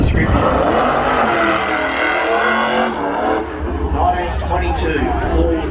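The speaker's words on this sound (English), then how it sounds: "1922 Ford Senator. 1922. Have a listen to it." Engine of a 101-year-old 1922 Ford Senator at a drag racing event, running loud and close with a rough, uneven note, while people talk over it.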